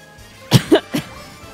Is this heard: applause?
no